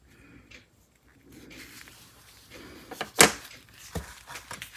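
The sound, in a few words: drawer being opened or closed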